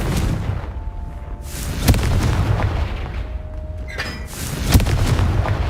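Repeated Confringo blasting-spell explosions in the game Hogwarts Legacy: heavy booming bursts with sharp cracks over a dense rumbling game soundscape, loud and close, no talk.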